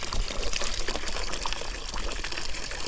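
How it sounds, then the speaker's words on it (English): Tap water running and pouring steadily into a farm animals' water container during daily chores, a continuous close splashing trickle filling the whole stretch. "Another thing I do is I kind of change their water every day."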